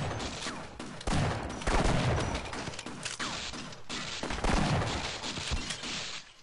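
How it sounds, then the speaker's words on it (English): Rapid gunfire in Half-Life, dense overlapping shots and impacts filling the whole stretch, loud and continuous with brief dips, no voices. "Shoot, shoot, shoot, reload."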